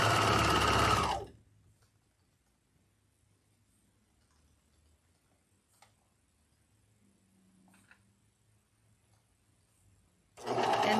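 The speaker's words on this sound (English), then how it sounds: "anytime you're working with a serger" A serger overlock sewing machine stitching fabric runs in a loud, steady whir for about a second, falls quiet through a long pause, then starts again at the end.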